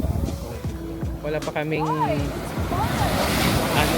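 Ocean surf rolls onto a beach in Mexico with steady wash and wind buffeting the microphone, while people talk loudly over it in the foreground.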